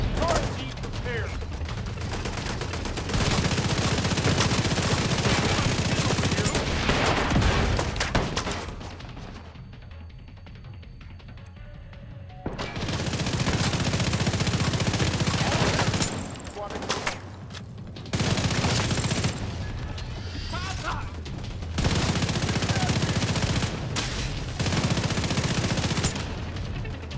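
Sustained automatic suppressing fire in The Division 2, long loud bursts broken by short pauses and a quieter stretch midway, with occasional mechanical clatter.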